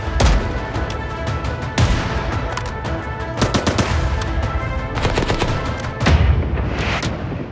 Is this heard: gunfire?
yes